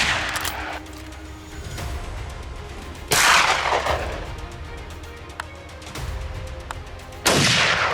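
Rifle shots ring out during a wild hog hunt on a Texas farm, three loud sharp blasts spaced several seconds apart, each trailing off in a brief echo over quieter background sound.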